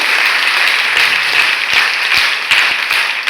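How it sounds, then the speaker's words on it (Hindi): Audience at a college NCC wing event gives a loud, sustained round of applause, dense clapping filling the room steadily without pause. "तो एक बार जोरदार तालियां।"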